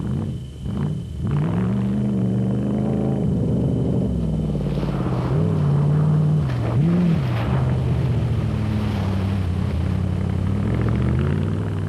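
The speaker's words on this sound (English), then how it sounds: "And let's face it, that Chevy is a joy to listen to." A rally car with a Chevy engine, a Zarco Magnum Chev, roars with a deep, steady rumble that rises and falls through gear changes, loud and close, with no voices over it.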